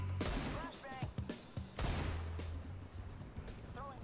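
Gunfire in Counter-Strike, likely an AWP sniper rifle, comes as several sharp shots at irregular intervals over a steady low hum and game effects, with brief voice-like tones mixed in.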